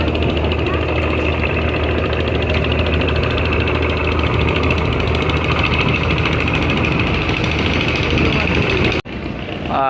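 The engine of a passenger launch ferry at Barisal runs loud and steady close by, a continuous throbbing drone with vibration as it speeds up, cutting off abruptly near the end.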